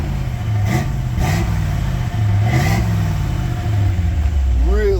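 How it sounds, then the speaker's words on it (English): A 1965 Chevy C10 truck engine rumbles and revs up and down through its exhaust, with voices talking over it near the microphone. "Really nice sounding exhaust."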